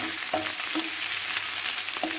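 Homemade döner meat frying in a pan, a steady close sizzle with occasional stirring clinks and scrapes throughout, no voices.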